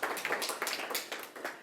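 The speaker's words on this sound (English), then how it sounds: "So, a quick round of applause." A tech conference audience claps for event sponsors, dense fast applause from a room full of hands, fairly loud and steady, with no speech on top.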